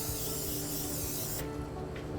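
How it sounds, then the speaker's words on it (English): Nonstick cooking spray hisses onto a baking pan in one steady close aerosol burst that cuts off partway, leaving a quiet room with faint handling sounds. "So first what we're going to do is prep our pan by spraying it so that these don't stick."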